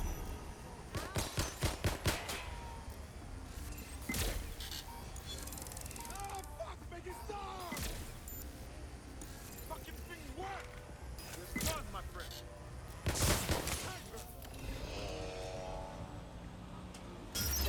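Bursts of gunfire in Watch Dogs Legion, sharp cracks clustered early and again near the end, with steady game noise and talking throughout.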